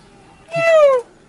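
A single clear, close cat meow with a falling pitch lasts about half a second against a quiet background.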